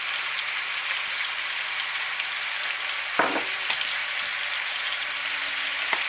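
Meat and vegetables sear in a pot for chili, a constant loud sizzle like heavy rain, broken by a brief clatter of a utensil against the pot midway.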